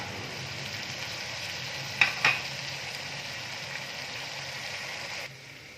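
Chopped capsicum hisses in a hot pan with a steady, even sizzle, broken by two quick utensil clacks midway, then the sizzle drops slightly near the end.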